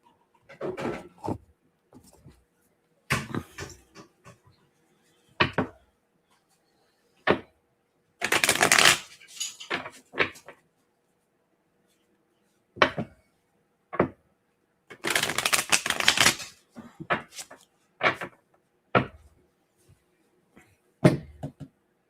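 Psychic reading cards being shuffled and handled, in short separate bursts of riffling and flicking broken by quiet gaps, close and fairly crisp, with no voices.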